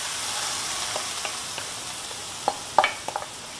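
Grated mango and ginger fry in hot sesame oil with a steady soft sizzle, broken by a few sharper crackles and pops near the end, with no voices.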